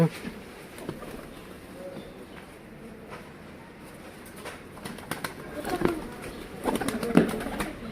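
Van pigeons cooing softly in the distance over steady outdoor background noise, with a few brief louder sounds toward the end.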